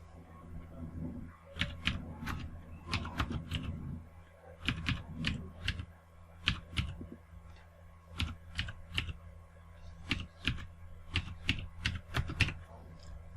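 A transaction number is typed on a computer keyboard in bursts of quick, crisp key clicks separated by short pauses, heard close and clear with no talking.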